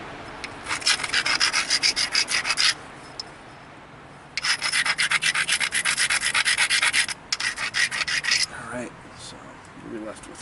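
The edge of a mahogany obsidian spear head is ground with rapid, rhythmic rasping strokes, close and loud, in two long bursts separated by a quiet pause.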